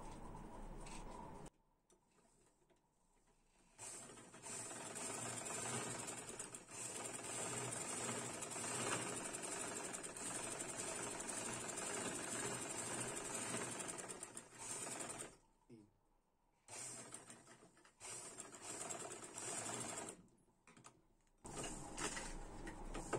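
A sewing machine runs in long bursts, stitching a seam on palazzo trousers. Its rapid mechanical whir and ticking stop abruptly in several near-silent pauses between runs.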